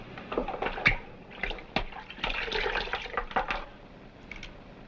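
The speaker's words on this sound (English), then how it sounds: "Martha Sam, can I have a little bit more of that water?" Water poured into a drinking vessel in an old-time setting, a run of soft splashing and trickling pours with brief drips, close and fairly faint, heard alone with no talk.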